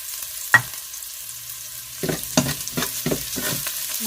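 Onion and ginger fry in a pan while being stirred, with a sharp clatter near the start and several scraping stir strokes toward the end over a quiet background sizzle.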